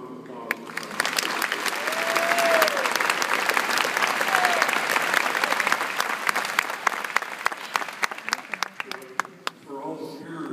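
An audience gives sustained applause for an ASU alumnus at an event, a dense wash of clapping that swells and then thins to scattered claps, with a few voices and brief murmurs underneath.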